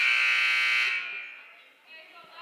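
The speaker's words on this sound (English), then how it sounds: "Buzzer's definitely working tonight." A loud electronic buzzer sounds at a high school girls' varsity basketball game, one sustained harsh tone that cuts off after about a second, leaving faint gym ambience behind.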